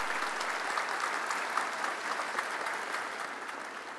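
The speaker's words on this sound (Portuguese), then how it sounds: "uma salva de palmas novamente, viva a Força Aérea Brasileira!" Steady, dense applause from an audience at a formal session honoring the Brazilian Air Force, loud and sustained without a break for the whole few seconds.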